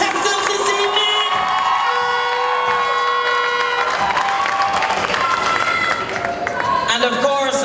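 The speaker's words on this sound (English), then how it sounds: "A round of applause for our top 5 contestants this evening." Loud cheering, whooping and applause from a pageant audience greeting the top five contestants at a Miss Clarendon Festival Queen event, a dense, sustained crowd roar with shouts and a few voices breaking through.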